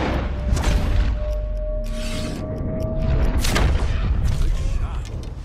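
A rifle fires in Red Dead Redemption 2 during a hunt: one booming report with a rolling echo, heard over outdoor ambience and game music, with a voice speaking nearby.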